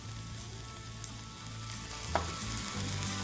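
Garlic and carrots sizzle steadily in a pan while cooking for eggplant omelette, a soft continuous frying crackle with one brief clatter of stirring, close and quiet without any voices.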